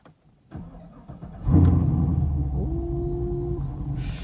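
A cammed Camaro 2SS is restarted while already warm: a brief starter crank catches into a loud, lumpy idle that settles into a steady, choppy rumble close by.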